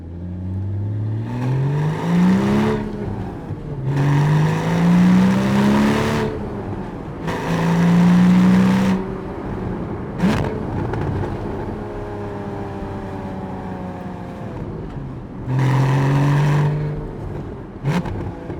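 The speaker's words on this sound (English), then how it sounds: "And it's on the downshift. The auto blip just does such a sweet job." Porsche 981 Cayman S 3.4 with a manual gearbox pulls through repeated loud acceleration bursts, each rising engine tone cut by a gear change, with sharp auto rev-match throttle blips on the downshifts between quieter cruising stretches.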